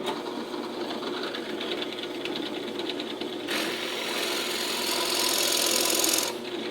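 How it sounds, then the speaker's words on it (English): A drill press set around 1300 RPM whirs steadily with a fine rapid rattle, then the pitch rises into a louder, brighter grinding whine as a plug cutter bites into wood, before easing off. "We want to set the speed of our drill press appropriate for the plug cutter"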